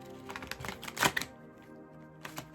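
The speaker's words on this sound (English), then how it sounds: "Anytime the cards shuffle like that, there's conflict going on." Tarot cards shuffled by hand in a quiet room: a few soft, papery riffling taps build to one louder burst midway, then a brief flutter near the end, with no voices.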